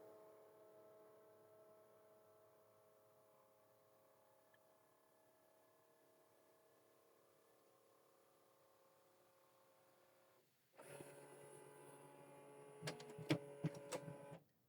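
A Canon TR4756i inkjet printer hums steadily and quietly during print head alignment, then grows louder with mechanical whirring and a few sharp clicks and ticks near the end as the print head moves.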